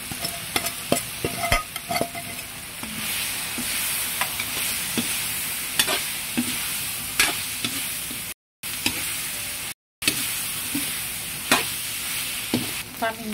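Chicken pieces sizzle in a hot pan while being stirred, with scraping clatters over a steady frying hiss, close and alone, broken by two short gaps of silence.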